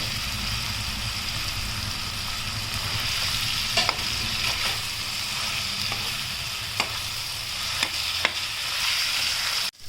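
Potatoes and onions for a hotel-style aloo palya fry in hot oil while being stirred, a steady close sizzle with occasional scraping clinks of the spatula against the pan.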